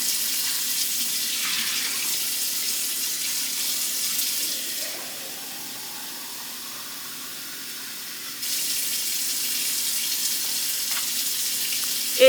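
A kitchen tap runs steadily into a sink as water is left flowing to get hotter, a constant hiss that drops quieter for a few seconds midway before returning at full strength.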